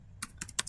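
Typing on a computer keyboard while entering Cisco switch port security commands: three or four quick, crisp key clicks in close succession, near and fairly quiet, with no talking.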